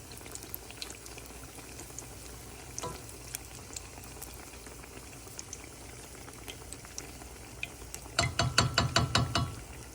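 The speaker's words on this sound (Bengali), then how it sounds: "একটু ভালো আছে ভাজছি যাতে এটা ক্রিস্পি হয়।" Eggplant fritters (beguni) fry in hot oil with a steady low sizzle and scattered pops, then a loud burst of crackling bubbling near the end as pieces are turned.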